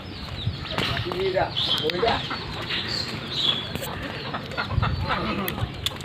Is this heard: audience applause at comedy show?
no